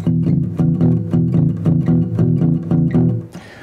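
A guitar plays a steady double-bass thumbpicking blues shuffle, pairs of low plucked notes chugging in an even rhythm, loud and close, ending with a brief strum.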